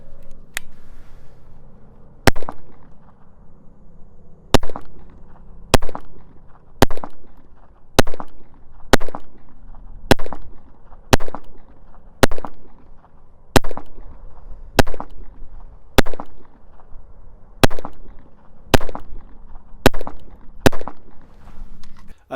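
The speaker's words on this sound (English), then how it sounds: "on this one, Winchester white box, shoot one mag of this." Fifteen sharp gunshots from a KelTec P17 pistol firing Winchester white box .22LR, spaced steadily about every 1.3 seconds as a full magazine is emptied, each crack loud and close against a quiet outdoor backdrop.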